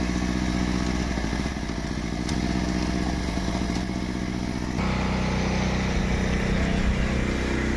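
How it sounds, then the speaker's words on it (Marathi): A tractor engine chugs steadily in a muddy rice field during monsoon planting, a continuous rough rumble with clattering, loud and close throughout with no talking. "हा बघा ट्रॅक्टर चालू केला आपण"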